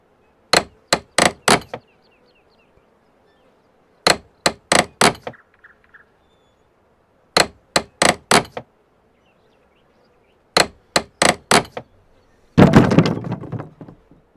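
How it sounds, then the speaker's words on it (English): Hammer work pulling nails and removing boards in Farming Simulator 19: four groups of sharp metallic clangs, three to five rapid strikes each with quiet gaps between, ending in a rattling crash of boards coming loose. "let's get the hammer out and start taking out some nails and removing some boards"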